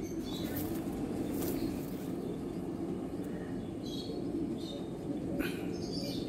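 A young female golden-eyed pigeon coos softly and low in a steady murmur, with a brief wing flutter and faint chirps from other birds in the background.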